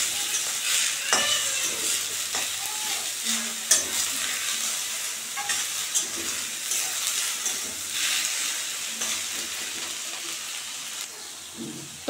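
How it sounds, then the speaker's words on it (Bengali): Pumpkin leaves fry in a pan with a constant soft sizzle, broken up by repeated scraping and stirring knocks from a utensil; no voices are heard. "কুমড়ো পাতাগুলো একসঙ্গে ভেজে নেব।"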